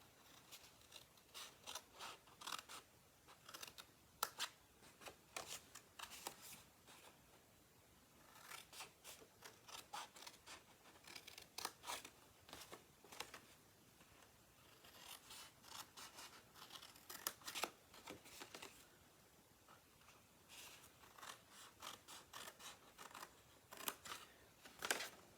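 Scissors cutting card for a gilded autumn box, a series of quiet, close crisp snips in short bursts with brief pauses between runs.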